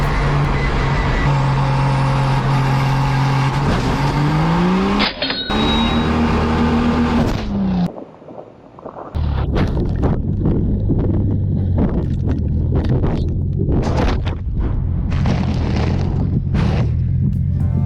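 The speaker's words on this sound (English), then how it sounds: "the driver of Old Smoky, the fastest half-mile truck in the world, making over 1300 horsepower" Old Smoky, a 1300-horsepower race truck at the Pikes Peak Hill Climb, roars loudly with a climbing engine pitch, cuts out abruptly, then returns as rough, gusty engine noise mixed with heavy wind buffeting.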